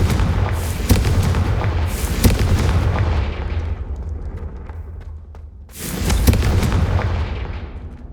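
A Confringo fire spell blasts in the video game Hogwarts Legacy, giving loud booming explosions at the start that fade into a rumbling tail, then another heavy blast near the end.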